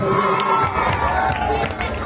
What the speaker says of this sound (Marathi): टाळ्यांचा गजर चालू राहिला पाहिजे